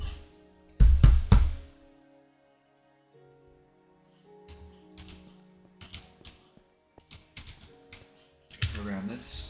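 Typing on a Corsair computer keyboard, with a loud burst of clattering keystrokes early on, then scattered quieter key taps and clicks, and another dense burst at the end.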